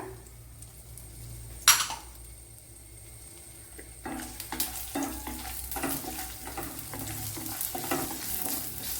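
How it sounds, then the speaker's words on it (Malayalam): Peanuts frying in a pan with dates and crushed cardamom: a quiet low hiss, one sharp clatter near the start, then from midway a louder steady sizzle broken by repeated scraping stirs, with no talk. "ഇതൊരു കപ്പലണ്ടി ഫ്രൈ ആയിട്ടുണ്ട്"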